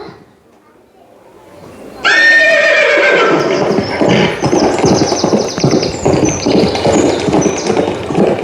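A horse in a British Tamil school pupils' stage play of Satyavan Savitri lets out a loud whinny that starts abruptly and carries on for several seconds, with rough, busy noise underneath that may include hooves.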